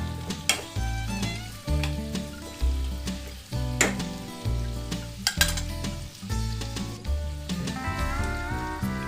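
Tomato and onion sizzle as they fry in a pan for a South Indian red chutney, with a spoon repeatedly stirring and scraping against the pan in an uneven rhythm and occasional metallic clinks.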